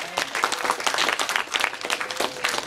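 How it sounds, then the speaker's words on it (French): A crowd applauds with dense, steady clapping from start to finish, fairly close and lively. "Combien de gens qui veulent applaudir Jésus pour révélation ça"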